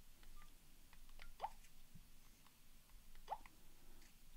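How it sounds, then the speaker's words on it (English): Faint tones come from a Nokia 105 mobile phone as it speed dials after a key is held down. Two short beeps sound about two seconds apart over quiet background hiss, with light tapping around them. "whenever you come out to the main menu and you press and hold key 2, this will speed dial Bill"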